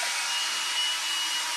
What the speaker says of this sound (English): I'll hoover it up for now.